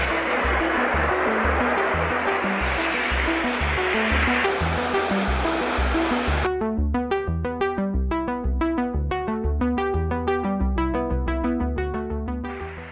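A furious river rushes past a concrete dam bridge in Shenandoah as a loud, steady roar of water for about six seconds, then music takes over and the rush drops out.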